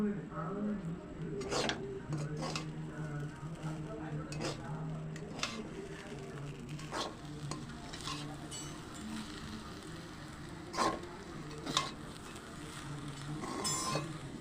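Jeera rice with chopped coriander stirred in a pan, giving soft scraping and occasional light clinks of a spoon against metal over a low background hum.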